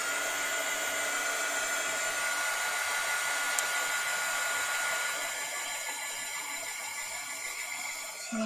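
A handheld heat tool blows hot air over a craft project, giving a loud, steady whooshing roar that continues without a break and eases slightly near the end.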